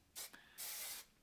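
A Color Wow Extra Mystical Shine Spray hair mister gives two quick spritzes, a short burst followed by a longer, steady hiss of fine mist, close by with no talking.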